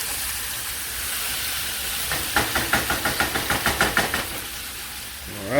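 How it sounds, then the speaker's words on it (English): Vegetables sizzle in hot oil with a steady hiss, joined midway by a run of quick rhythmic clicks that fade out again. "You can hear the sizzling."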